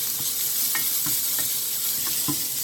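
Vegetables seasoned with salt, pepper and a little soy sauce stir-fried over high heat, a steady loud sizzle with regular scraping strokes of the spatula roughly every half second.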